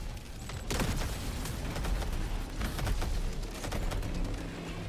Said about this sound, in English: the bully SMG feels nice